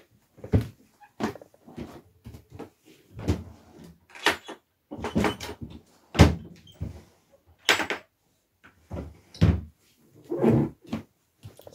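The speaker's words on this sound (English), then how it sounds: "it's my feet squeaking on my floor" Feet squeaking on an old floor covered with strange old lino, with an old chest of drawers nearby: a run of sharp, separate creaks and knocks at an irregular, unhurried pace, close by and fairly loud, with no talking.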